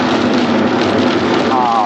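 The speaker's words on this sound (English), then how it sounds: "Now we got a rain and snow mix. A little bit of snow, big flakes hitting the windshield." Steady, close-up patter of mixed rain and large wet snowflakes striking a car windshield while driving on I-35 in a snowstorm, a dense continuous wash of noise with road and engine rumble beneath and a faint tone near the end.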